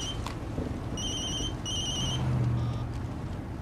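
A cell phone rings with two short electronic chirping bursts and a faint third, heard over steady background rumble with no one speaking.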